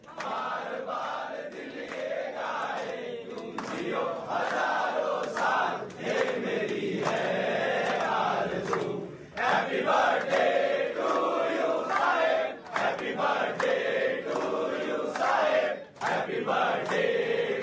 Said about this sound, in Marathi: सकाळपासूनच उद्धव ठाकरे यांना शुभेच्छा देण्यासाठी शिवसैनिकांची मोठी गर्दी झालेली आहे